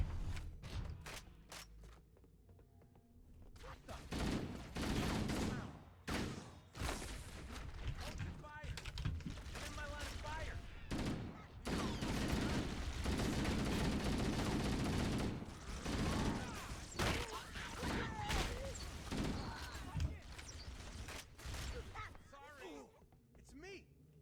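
Gunfire in the video game Halo: bursts of rapid shots and heavy sustained fire, loud and dense, broken by short pauses and mixed with other game sounds.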